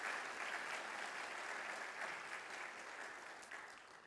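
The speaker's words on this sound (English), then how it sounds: "everyone please give her a round of applause for her mother who came in her presence being known" Audience at a Martin Luther King Jr. Day celebration applauds continuously, a dense, fairly faint wash of many hands clapping that tapers slightly toward the end, with no voices over it.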